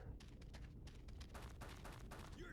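Rapid bursts of gunfire from the 2001 first-person shooter Red Faction, a rhythmic series of sharp close shots fired in quick succession, with a brief electronic tone near the end.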